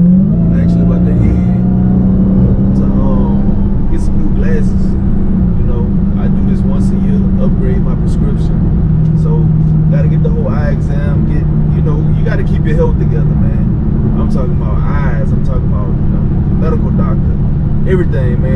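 A car engine runs at wide open throttle, a loud droning whine holding and slowly sinking in pitch over road rumble, while a person talks over it.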